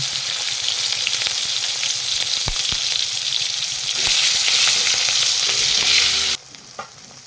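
Green chillies dropped into hot oil for a vegetarian aloo dum, a loud, dense sizzle that swells for a couple of seconds and then cuts off sharply, leaving a quieter tail with a stray knock.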